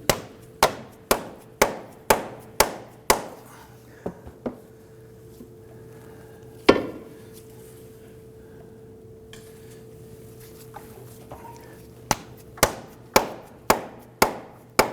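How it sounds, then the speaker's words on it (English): A rubber mallet taps a CV axle into the transmission of a 2008-2011 Ford Focus: bursts of sharp, evenly spaced knocks roughly twice a second at the start and end, with a single blow near the middle and a quiet hum between. "We'll go ahead and use our rubber mallet on the end and tap our axle in."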